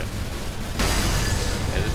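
A nuke detonates in a video game mission, a sudden loud roaring blast that cuts in partway through and sustains as a dense, rumbling wash of noise.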